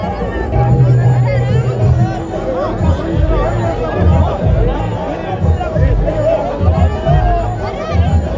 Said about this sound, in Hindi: देखिए स्वागत में उमड़ी भीड़।